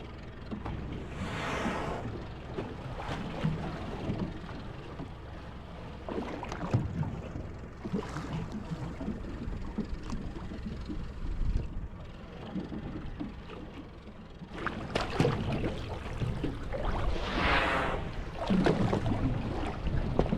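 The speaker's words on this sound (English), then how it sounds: "I do have the motor on, so I can escape at any point in time." A small boat's motor runs on open water close to a whale, a rough continuous drone mixed with wind buffeting and splashing water throughout.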